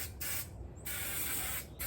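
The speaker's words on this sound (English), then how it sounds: "go ahead and spray it" Bursts of spray adhesive hiss from a can being applied along a car door panel for upholstery work, three or four close, steady sprays separated by brief pauses.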